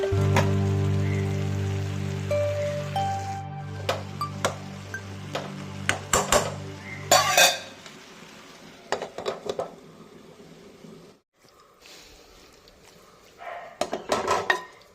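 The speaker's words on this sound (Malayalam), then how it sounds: "അതിലേക്ക് തേങ്ങായ, മഞ്ഞൾപ്പൊടി, ഉപ്പ് ഇത്രയും കൂടെ ചേർത്ത് ഒന്ന് ഇളക്കി അമുക്കി വീണ്ടും അടച്ചു വയ്ക്കാം വേകാനായിട്ട്." A pan of beetroot with grated coconut, turmeric and salt being stirred and pressed with a spoon. Metal clinks and scrapes come in scattered clusters, with brief quiet gaps and a low steady hum behind them.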